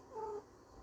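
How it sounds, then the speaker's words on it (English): A cat gives a short, faint meow in a workshop where a reclaimed mahogany desk is being built, a brief voiced cry followed by quiet room tone. "Hey, no, don't scratch that, kitty."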